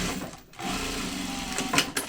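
A sewing machine stitches fabric for a floor pouf, a close, steady mechanical whir with a rapid needle rhythm after a brief pause near the start.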